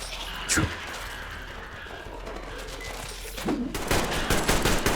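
Gunfire in the video game Metro: a short burst early on, then a heavier sustained volley near the end over rumbling game ambience.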